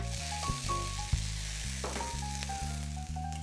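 Red pepper strips sizzle in a frying pan for Thai red curry, a close, steady frying hiss with a few soft clicks and shifts as they settle.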